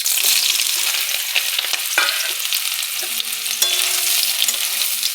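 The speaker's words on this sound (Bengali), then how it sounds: "এবার ভেজে নেব সয়াবিন।" Soybean chunks, soaked in hot water and squeezed dry, fry in oil with a steady loud sizzle, brief scraping stir noises and a faint tonal hum partway through.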